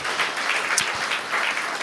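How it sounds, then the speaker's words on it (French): A church congregation applauds loudly to welcome a shy young guest: a continuous crackle of many hands clapping together, with a couple of low thumps partway through. "je voudrais qu'on applaudisse bien fort pour l'encourager"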